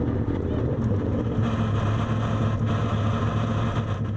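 A Nissan GT1 race car engine started by its starter button, running as a loud, steady low rumbling drone close by, with no voices over it.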